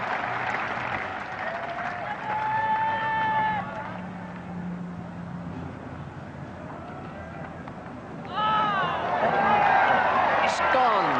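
Spectators at a cricket ground during an England versus India Test match break into sustained applause, a broad wash of distant clapping that swells, fades and then rises again. A commentator speaks over it.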